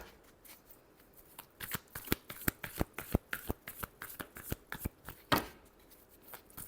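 A deck of tarot cards is shuffled close up, a quick run of sharp flicking riffles followed by a few softer slides and taps, quiet and with no talking.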